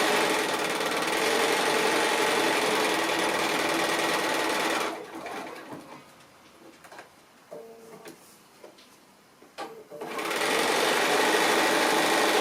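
A sewing machine runs steadily while stitching around the edge of a fabric jar opener quilt, a loud continuous whirring hum that stops midway for a few seconds of quiet handling clicks, then resumes.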